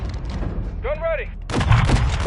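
Gunfire in the video game Modern Warfare, a loud burst of shots after a short tonal game sound, over continuous radio chatter and background battle noise.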